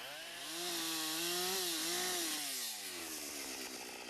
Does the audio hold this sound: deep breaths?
no